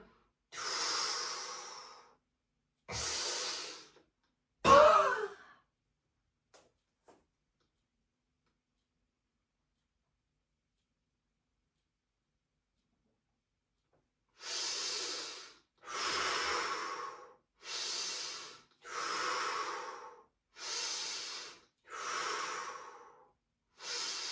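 Slow, steady exhalations during a breathing exercise: a few forceful breaths, a long silent pause, then a run of seven evenly spaced, close, loud outward breaths.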